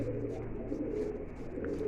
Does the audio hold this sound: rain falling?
no